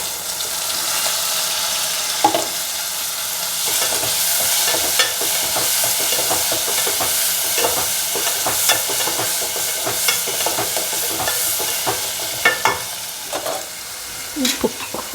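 Tomato goes into a pan of fried onions with a little turmeric for a dry fish gravy, giving a continuous close sizzle with repeated spoon stirring scrapes and occasional sharp clinks.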